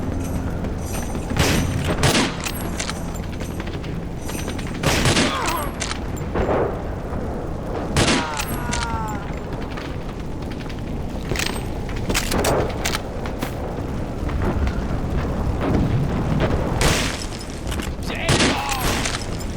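Gunfire erupts in bursts during an ambush in the NecroVisioN shooter game, with repeated loud shots and booming blasts over a steady battle din, and voices talk over the fighting.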